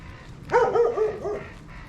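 A single dog gives a short, close bark-whine of a few quick yelping pulses at night outdoors, heard alone over a faint background.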